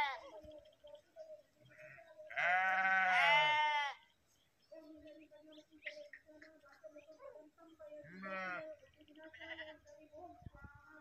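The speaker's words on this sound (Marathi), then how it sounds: "पुढे गेल्यानंतर या सर्व मेंढ्या त्याच्या मागे जातील" A large flock of sheep bleats outdoors in loud bursts, several overlapping calls rising together, then quieter scattered bleats and a later shorter outburst, with someone talking between them.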